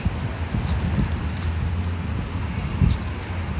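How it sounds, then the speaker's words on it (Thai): Steady wind blowing outdoors among autumn trees in South Korea, a continuous low rushing roar with rustling and buffeting on the microphone, no talk. "ลม"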